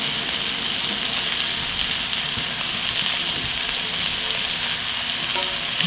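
Scallops pan-seared in a floured pan sizzle steadily and loudly, a dense continuous frying hiss with faint scraping underneath, no voices.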